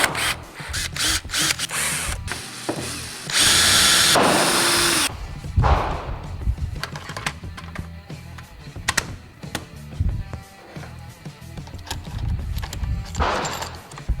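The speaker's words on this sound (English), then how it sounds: "when you're tightening this, you want to set your torque setting to a very low setting." A power drill set to low torque tightens a plastic part on a 10/22 PS90 conversion kit, giving several short whirring bursts with clicks and clattering handling noises between them.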